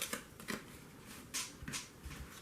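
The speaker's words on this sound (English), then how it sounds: "Shuffle them up." Harry Potter trading cards are shuffled by hand in a few quick riffling bursts, close and quiet, with short pauses between them and no talk.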